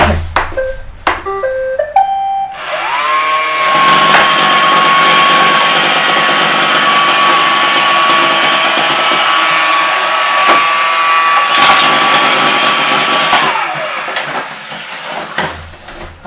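An iRobot Roomba 500/600/700 series robot vacuum with its brush assembly running: a loud, steady whirring drone with a high motor whine that spins up after some clatter and winds down near the end, with no talking.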